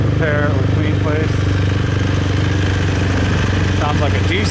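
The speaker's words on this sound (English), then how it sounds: "Sounds like a diesel." A steady, loud diesel engine idles with a constant low rumble throughout on a street in Saigon, Vietnam, and a voice speaks briefly over it.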